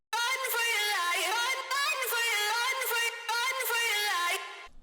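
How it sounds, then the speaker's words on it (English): Pitched vocal chop melody from the drop of an NCS electronic track, with dense stacked harmonics shifting in pitch, loud and continuous for several seconds before cutting off abruptly. "So the vocal chop melody actually pitches at a point"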